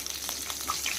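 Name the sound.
fresh curry leaves sizzling in hot oil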